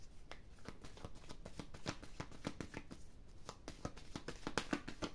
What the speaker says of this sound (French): Je vais tirer une seule carte de tarot de Marseille pour l'énergie de cette pleine lune.